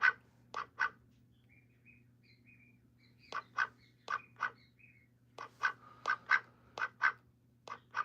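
A pet duck quacks in short, close bursts, a few spaced calls followed by a rapid cluster of repeated quacks over a low steady hum in an indoor room.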